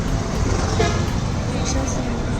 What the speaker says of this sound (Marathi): हा एस टी स्टँड आहे बघा